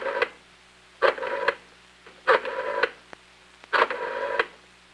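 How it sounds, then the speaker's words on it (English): Touch-tone dialing of an extension number on a 1964 Dial Com telephone system: four separate bursts of tones roughly a second apart, clear and close, with no talking. "Then I continue to dial the extension number, which is"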